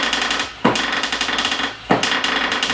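A cordless screwdriver hammers rapidly while driving a self-tapping screw. The fast, sharp impact rattle comes in two long bursts with brief pauses between them, close up and loud, with no talking.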